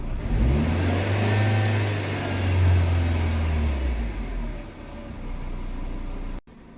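A Chevrolet Spark M300 engine, with a new thermostat and upper hose, revs steadily and loudly for several seconds, a low droning note rising and holding, then cuts off abruptly near the end.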